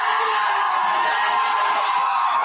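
A crowd of student supporters at a school council election event cheers and shouts in a sustained, dense roar with no breaks.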